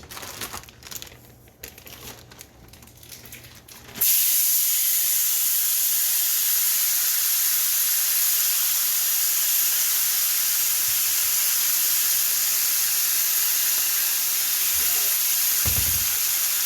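Pork for tacos going into a hot pan: a few seconds of quiet rustling, then a sudden loud, continuous sizzle and hiss that holds steady until the end, with one brief low knock near the end.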